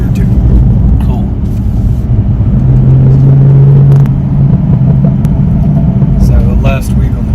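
BMW M4 engine on the move: a low, steady rumble of the car's motor and road noise runs throughout, with a brief rising tone midway, heard from inside the cabin under ongoing conversation.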